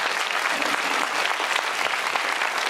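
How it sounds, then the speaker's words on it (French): A studio audience breaks into continuous, full applause for Juliette Binoche, a dense even wash of clapping held at steady loudness throughout. "on applaudit, on applaudit"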